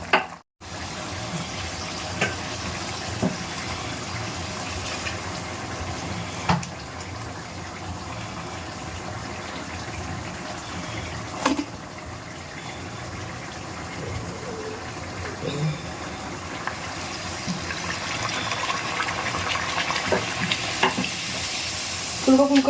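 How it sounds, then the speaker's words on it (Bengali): Luchi frying in hot oil in a wok, a steady close sizzle running throughout with occasional stirring clinks and scrapes, the bubbling growing slightly louder toward the end. "ওই কড়ায় তেল দিয়ে লুচিটা ভাজতেই থাকি"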